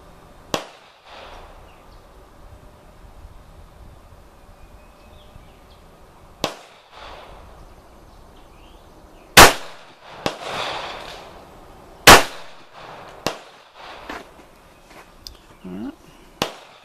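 .45 caliber gunshots fired through a row of boards, sharp loud cracks scattered across the span, a few spaced shots with short echoes over faint background noise, with people talking quietly in between.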